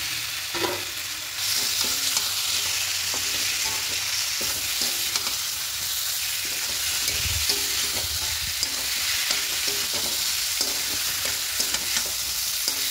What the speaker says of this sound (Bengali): ভালো করে কষিয়ে নিয়েছি মশলাটা। এবার এখানে সেদ্ধ করে এই যে ভেজে রাখা সবগুলো একসঙ্গে দিয়ে দেবো।